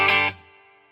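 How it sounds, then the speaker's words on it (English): A single electric guitar chord through a Peavey Classic 30 amp strikes loud and distorted, then rings out with a long, shimmering reverb tail that fades slowly. "I have the reverb set a little bit dramatically so you can hear that it is a really nice reverb."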